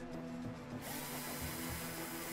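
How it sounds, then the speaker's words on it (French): A power drill whines steadily while pre-drilling wooden slats for a kitchen cabinet lift, a close, continuous motor drone with slight changes in pitch as the bit bites, no speech. "Il a prépercé les lattes et les a fixées sur toute la largeur de l'armoire"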